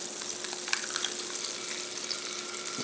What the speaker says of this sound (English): First, we're going to fry this egg up.